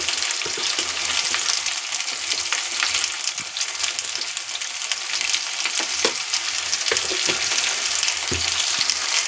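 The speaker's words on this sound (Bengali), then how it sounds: "দেখুন আলুটা লাল লাল করে ভেজে নিয়েছি" Potatoes frying in a pan give a loud, dense, continuous sizzle, broken by occasional knocks and scrapes of a spatula turning them.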